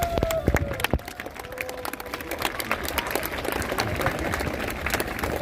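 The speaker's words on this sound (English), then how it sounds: "turn around and look at the crowd and give them a big applause" A graduation ceremony crowd claps in a scattered, moderately distant burst of applause that continues steadily, with a few sharper individual claps early on.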